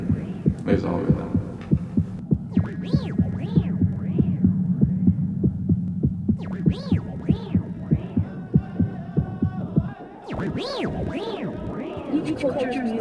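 A steady heartbeat sound effect in a documentary on the mid-1990s Seattle rave scene, regular throbbing pulses repeating through the whole stretch, with a voice speaking over it and other music-like tones layered in.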